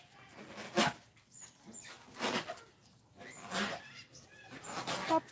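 Puppies give short, separate yelps and whimpers, about five brief bursts spaced a second or so apart, fairly close and soft over a quiet background.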